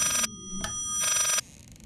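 Telephone ringing in the video game Layers of Fear, an old-style bell ring in two bursts separated by a short pause, loud and close.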